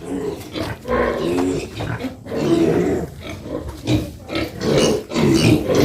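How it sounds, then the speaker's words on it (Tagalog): Pregnant sows and piglets on a farm grunt and snort repeatedly in bursts, close and fairly loud, with no talk over them. "Ito na mga maming baboy."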